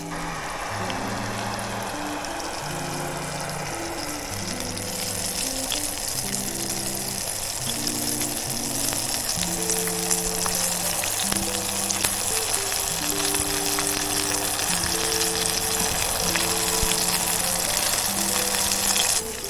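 Fish sizzling in a pan on an Ozark Trail 4-in-1 camp stove, a steady close hiss and crackle of frying that runs unbroken throughout, with an irregular low tonal pattern underneath.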